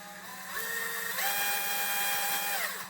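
A DeWalt 1/4-inch hex compact right angle driver with a long extension whirs steadily as it drives a screw, its motor pitch stepping up partway through, then winding down at the end, close and alone with no talk.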